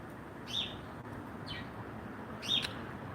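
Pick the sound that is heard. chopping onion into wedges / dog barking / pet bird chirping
pet bird chirping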